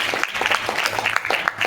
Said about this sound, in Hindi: तालियां करो मैडम के लिए